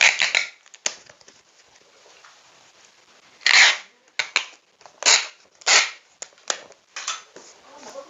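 A series of crackly, screechy packing tape pulls in quick bursts with short pauses between, close and fairly loud, taping a box of plant seedlings.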